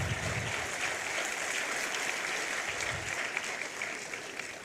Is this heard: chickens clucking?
no